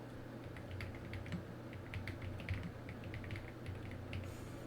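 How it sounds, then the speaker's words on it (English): Steady typing on a computer keyboard with quick, light, irregular key clicks, fairly faint, over a constant low hum. "Hold on. I'll just type it in."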